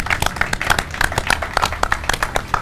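Clapping from a small group at a barbecue competition awards in Malta, brisk and close, with individual hand claps distinct throughout a short burst.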